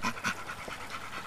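An American Staffordshire bully dog, a female about to be bred, panting in quick rhythmic breaths close to the microphone, with no one talking.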